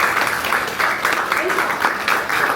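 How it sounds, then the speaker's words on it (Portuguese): Audience applause at a Portuguese book presentation in a Fnac store, a steady dense clapping wash lasting a few seconds at moderate level, with a voice faintly audible through it. "Uma salva de palmas para a Francisca."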